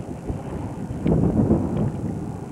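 Gusty morning wind near Hoover Dam buffets the microphone in low, uneven rumbles, swelling stronger midway before settling again.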